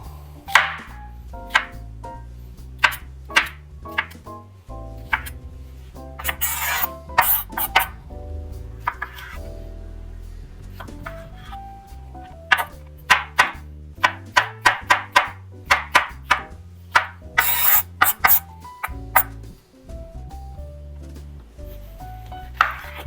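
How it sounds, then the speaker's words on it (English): A kitchen knife chops vegetables on a cutting board for an Italian pasta salad, sharp separate knocks in quick irregular runs with short pauses, close and clear with no talking. "And then you're just going to chop them up."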